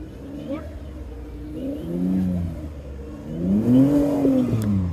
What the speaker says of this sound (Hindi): लो गियर के ऊपर गाड़ी मूव करो तो हो जाएगा